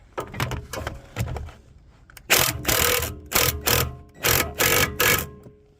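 An impact wrench hammers in several loud rattling bursts, close up, as it undoes a rusty anti-roll bar drop link nut on the rear of a Ford S-Max.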